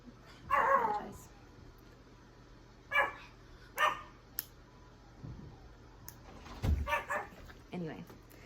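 A neighbor's dog barks in several separate bursts, some single and some doubled, heard at a moderate distance and fairly loud, with quiet gaps between them.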